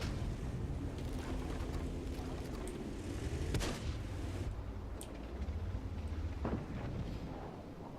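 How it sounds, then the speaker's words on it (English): Artillery shell bursting near a tank in a World of Tanks–style game, a sharp blast about halfway through that stands out over the steady rumble of the tank engine and battle noise. "Oh, blinking artillery. Luckily, it just missed."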